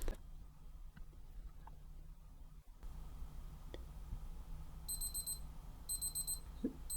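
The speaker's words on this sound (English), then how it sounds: "When the time is up, it will beep at you 10 times" A Casio Royal wristwatch's countdown timer going off: faint, high-pitched beeps in quick repeated bursts, two clusters near the end over quiet room hiss.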